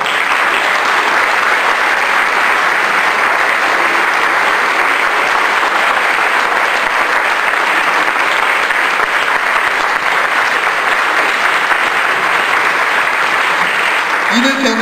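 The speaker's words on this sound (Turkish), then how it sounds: "Yine sizlerin büyük alkışlarınızla." Sustained audience applause fills a large hall at an opera awards ceremony, a steady, dense wash of clapping that stays loud and unbroken throughout, with no speech over it.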